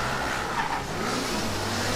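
Formula Student race car accelerating down the back straight of an autocross course, a steady, moderately loud engine roar from mid-distance with no talk over it.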